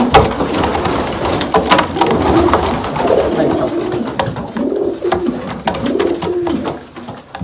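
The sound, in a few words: racing pigeons cooing in loft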